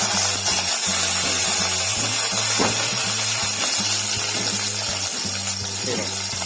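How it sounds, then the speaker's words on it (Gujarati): Curry leaves dropped into hot oil with popping mustard seeds crackle in a steady, bright sizzle during outdoor village-style cooking for vada pav, with a low engine-like hum and a voice speaking over it. "તો હવે નાખી રહ્યા છે લીંબડી"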